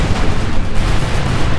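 Fragmentation bombs bursting on field guns in the Company of Heroes 2 strategy game, a dense, loud, continuous rumble of overlapping blasts with no pauses.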